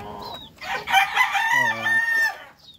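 Rhode Island rooster crowing once, loud and close, a drawn-out cock-a-doodle-doo with a rising start and a falling tail, other chickens faintly clucking around it.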